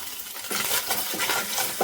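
Chopped garlic is stirred in hot olive oil in a pan, a steady close-up scraping and gentle sizzle with a few louder utensil scrapes against the pan.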